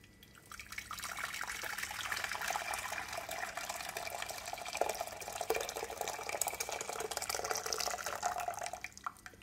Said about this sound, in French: je mets 1 kg d'eau